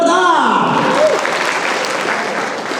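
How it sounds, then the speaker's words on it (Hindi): An audience at an employee annual day celebration breaks into loud, dense applause to welcome a singer, a voice briefly heard over the opening before the clapping carries on alone and fades slightly. "कविता मैम का स्वागत भी जोरदार तालियों से होना चाहिए।"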